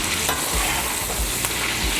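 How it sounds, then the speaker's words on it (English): Prime rib sizzles steadily in a pan with thyme and garlic butter, a dense continuous crackle of hot fat close by with occasional stirring and no talk. "It is the perfect temperature to start frying it back in the pan with our thyme and garlic butter."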